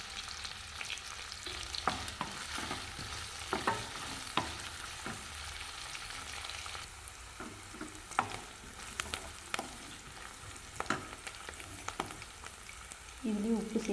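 Garlic, dried red chillies and curry leaves sauté in a pan for a raw mango and moong dal pachadi, giving a steady close sizzle with scattered sharp pops and spoon stirs throughout.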